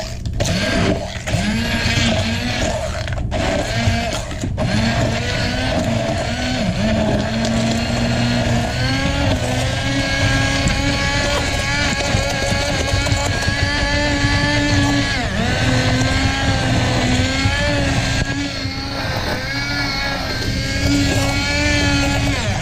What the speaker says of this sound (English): blend this up until it's smooth and creamy